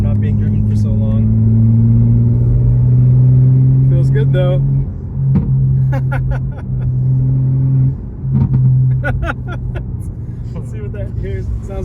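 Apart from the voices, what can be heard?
2025 BMW M4 Competition engine with exhaust burbles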